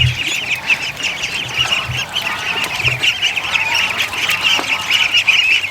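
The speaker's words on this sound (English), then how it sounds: "the geese are coming back" Geese honk loudly and steadily as they fly back toward a Texas farm barn, a dense, continuous chorus of calls close by with no talking.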